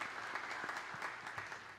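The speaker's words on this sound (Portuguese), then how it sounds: "Pedir uma salva de palmas para a Aline, que faz um trabalho destacado" An audience at a formal solemn session honoring youth leadership claps in a short, faint patter of applause heard from a distance.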